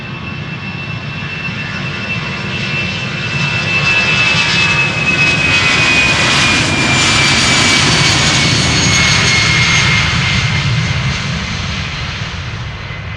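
EasyJet airliner, 17 years old, taking off from Amsterdam Schiphol, jet engines roaring loud and steady with a high whine that slides downward as thrust builds and the aircraft passes, broad continuous rumble throughout, no voices.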